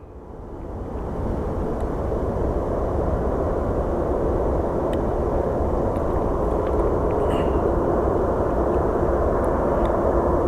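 A Boeing 737 in oneworld livery rolls at Phoenix Sky Harbor International Airport, its engine noise swelling in the first two seconds into a sustained loud, even roar.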